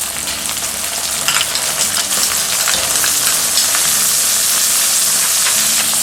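Finely chopped tomatoes hit softened onions in a hot pan, giving a steady, close sizzle and crackle with occasional stirring scrapes, with no talking.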